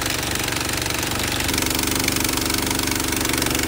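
A water trailer pump engine running steadily at about half throttle, with a loud, close, continuous knocking drone and no speech.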